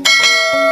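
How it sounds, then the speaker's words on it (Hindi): A single bright bell chime rings out alone, struck once with a shimmering tone that fades within a second. "और हाँ घंटी बजाते हुए जाना"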